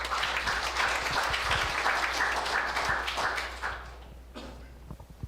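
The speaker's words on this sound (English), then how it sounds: "can we just get one more round of applause for all the athletes" An audience at a city council meeting claps for a group of athletes, a dense, steady round of applause from many hands at moderate distance that thins out and fades toward the end, leaving a few scattered claps.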